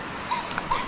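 A dog gives a few short whimpering yips near a river on a hot day, brief high cries heard close and fairly loud with no talking.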